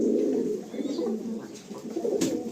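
Pigeons coo steadily in a home loft near Airport 1 No Gate, a dense, continuous low murmur of overlapping calls close by, with no talk over it.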